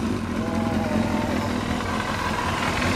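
A 1991 Kawasaki ZXR250R motorcycle fitted with a Daishin aftermarket exhaust muffler, idling with a steady, busy engine drone that stays close and loud throughout, with some talk nearby.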